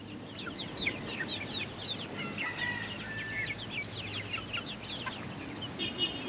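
A flock of 28 chickens being herded toward a new coop in Puerto Rico keeps up continuous, overlapping clucks and short squawks against steady outdoor ambience, with no talking.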